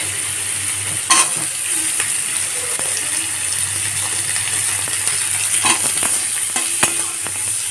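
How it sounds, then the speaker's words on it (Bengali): Onions frying in a pan after chickpeas have been fried, for a potato and yardlong bean curry, give a steady close sizzle throughout, broken by a few sharp clinks and stirring scrapes. "পেঁয়াজটা হালকা ভেজে নেবো"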